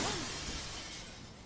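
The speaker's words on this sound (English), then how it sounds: "Smashed through the window and off into the night." Glass window smashing in the horror game Spirit Hunter: Death Mark, a loud sustained burst of shattering glass that fills the clip with dense crackle, tapering slightly by the end.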